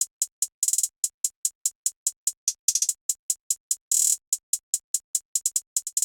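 Hi-Hat 1 from a BWB kit runs as a crisp, bright hi-hat pattern in an FL Studio trap beat, alone and close, with steady ticks broken by quick rolls and rapid stutters.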